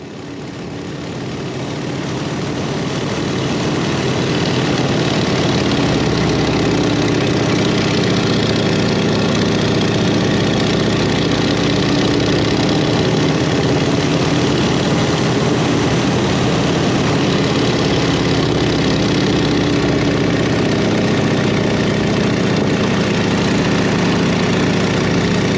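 Engine of a 100-year-old open-cockpit four-wing biplane in a dive, a loud steady roar that swells over the first few seconds and then holds constant with wind rush, no talk.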